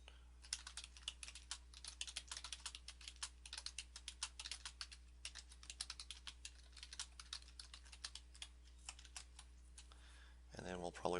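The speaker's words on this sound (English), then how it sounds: "You can put something in here simply by typing in" Steady, fast typing on a computer keyboard while entering text into a WordPress form, a quiet run of close key clicks throughout, ending in a brief louder noise.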